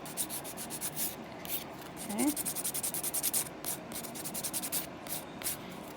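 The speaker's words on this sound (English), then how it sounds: "Now that I use this coarse file" Rapid, rhythmic scratchy rasping of a coarse file on an acrylic nail, close up and fairly quiet, with a brief spoken word partway through.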